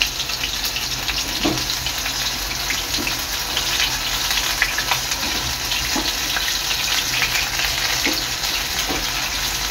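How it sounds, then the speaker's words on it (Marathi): Bombay duck fish dipped in gram flour batter frying in hot oil, a steady close sizzle and bubbling hiss throughout with a few faint soft clinks and splashes, no talking. "आता मी बोंबील आहे ना ह्याच्यात डीप करते आणि तेलात सोडते"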